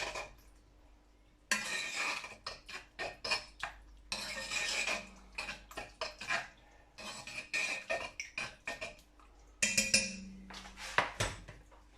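A spoon stirs Dijon mustard into a homemade sauce in a pan, giving close, repeated clinks and scrapes of metal on cookware in irregular bursts, with short quiet gaps between them.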